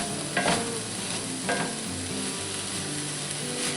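A spoon works a venison and tomato paste mixture dusted with flour around a hot cast iron skillet, steady sizzling frying noise with a couple of soft scraping strokes, close up and without speech.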